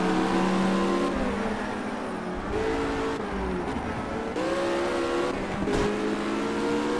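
Race cars in Project Cars scream around the Brands Hatch circuit, the engine note repeatedly climbing in pitch through the gears, dropping at each shift and rising again, loud and close with no voices.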